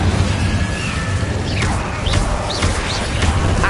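Incendio fire spell in Hogwarts Legacy: loud, continuous roaring blaze with repeated whooshing bursts and swooping high effects over a heavy low rumble, close and sustained throughout.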